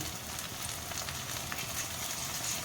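Garlic paste sizzling in hot oil while cooking freshwater eel, a dense, even crackling sizzle that holds steady and fairly quiet throughout, with no voices.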